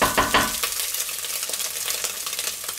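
Minced meat fries and crackles in a pan while a utensil stirs it, giving a steady, close sizzle with brief scraping accents near the start.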